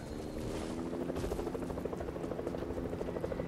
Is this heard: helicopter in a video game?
yes